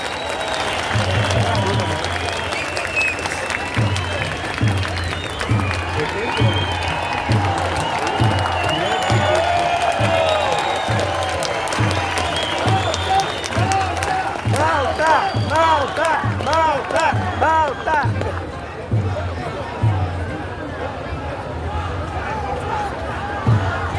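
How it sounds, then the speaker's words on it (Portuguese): A political rally crowd in Belo Horizonte applauds Senator Magno Malta with loud, sustained clapping that settles into a steady rhythmic beat, mixed with cheers and a dense murmur of voices throughout. "Uma salva de palmas para o senador Magno Malta."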